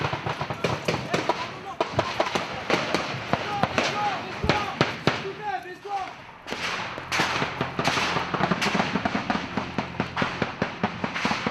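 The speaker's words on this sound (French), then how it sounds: "C'est alors que des tirs de calage se font entendre, les insurgés se rapprochent." Insurgent gunfire, with sharp cracks and thumps scattered through the whole stretch, rings out near a bomb disposal team at work in Kapisa, Afghanistan. Voices and other activity continue underneath the shots.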